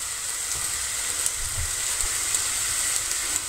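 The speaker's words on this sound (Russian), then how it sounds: "Все, жарятся они на большом огне." Syrniki cheese pancakes frying in a pan over high heat, a steady hissing sizzle with faint crackles and occasional low thumps, close and even, with no talk.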